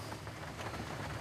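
Steady rain falling on a riverside hut in Greymouth, New Zealand, a dense, even patter with no other sounds.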